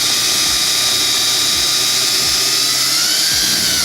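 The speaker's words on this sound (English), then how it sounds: "set your drill in the windowsill and go straight down" A power drill whines loudly and continuously up close, its high-pitched motor grinding steadily as it bores straight down into a windowsill beside a metal clip.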